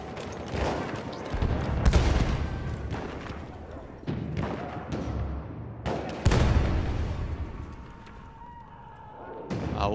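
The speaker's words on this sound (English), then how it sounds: "Let's throw a bomb down now." In the Battlefield 1 video game, a bomb explodes amid repeated heavy bursts of gunfire and booming blasts, loud and close, in irregular clusters over ten seconds.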